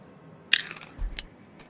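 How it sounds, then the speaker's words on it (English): A few short, sharp crunches of someone biting into a snack, close to the mic, with a soft second bite shortly after and quiet room tone in between. "Can you hear me crunching?"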